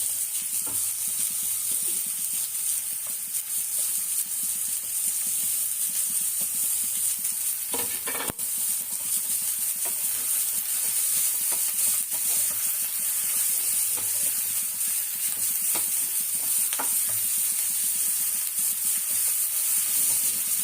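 Onion and carrot sauté in a pan with a steady, close sizzle that holds for the whole stretch, broken by occasional clicks and scrapes of stirring.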